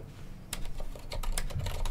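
Fingers type on a computer keyboard in quick, irregular clicks and taps, close and clear, with no voices.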